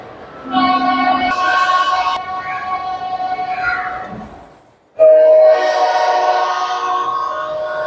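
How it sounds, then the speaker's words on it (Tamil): A train horn at a rail exhibition sounds in two long, loud blasts with a short pause between them, close by and steady, over the rumble of rail noise. "இத பாருங்க, ஹார்ன் வித்தியாசமா இருக்கு"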